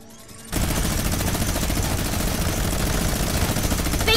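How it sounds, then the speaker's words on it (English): Sustained minigun fire in a Fortnite fight, a dense, unbroken roar of rapid shots that starts abruptly after a brief quieter moment and stays loud to the end. "Block the minigun shots!"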